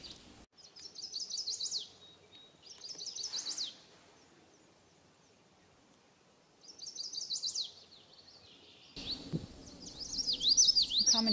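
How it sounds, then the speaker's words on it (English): A chestnut-sided warbler sings from close by at the start of a boardwalk, repeating bright, rapid high phrases in bursts separated by pauses, with a second, busier bout of song near the end. "This chestnut-sided warbler is just fearless, singing his heart out right at the beginning of the boardwalk."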